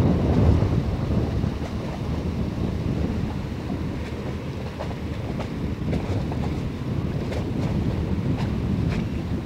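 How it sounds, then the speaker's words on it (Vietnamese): Strong wind gusting over open water, heavy rumbling buffeting on the microphone, steady and loud throughout, with faint higher splashes of rippling water and no talking. "Đây gió cũng lăn tăn lên này"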